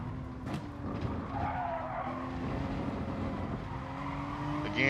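A Porsche race car circles laps in Gran Turismo 7, its engine droning steadily while tires squeal and skid through corners, loud and continuous, with the engine rising at the end.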